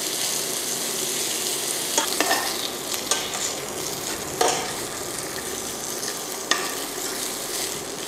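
Hungarian sausage sizzles steadily in a hot pan, with a few sharp scrapes and clacks of a utensil stirring it at intervals; no talking.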